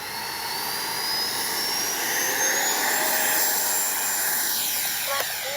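An FMS Integral 80mm EDF RC jet takes off, its ducted fan giving a steady, loud whine with a rising high tone and broadband rush that holds throughout, with a brief click near the end.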